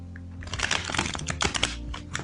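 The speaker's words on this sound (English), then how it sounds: "Shuffle them a lot." Tarot cards being shuffled by hand, a quick run of dense papery riffles and slaps with no one speaking.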